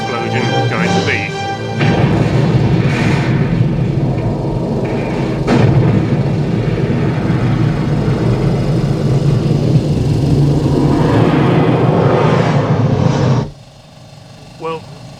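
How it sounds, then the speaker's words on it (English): A massive Praxis moon explosion from the Star Trek VI theatrical soundtrack, played from 35mm film: a loud, sustained roaring blast with rumbling low end and crashing bursts, lasting about twelve seconds before dropping away abruptly. "How good is this Praxis moon explosion going to be?"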